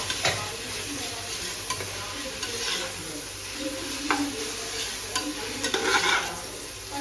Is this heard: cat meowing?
no